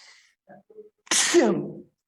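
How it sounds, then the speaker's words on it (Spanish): A single loud, close sneeze, with a sharp intake and explosive burst, preceded by a few faint breathy sounds and followed by silence. "Y estornudo 2 veces y ya."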